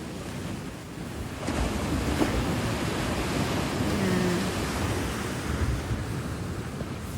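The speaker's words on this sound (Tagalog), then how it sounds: "magmasdaan ang alon sa dalampatigan" Waves wash continuously onto a shore with a broad, steady roar, and wind buffets the microphone; no one speaks.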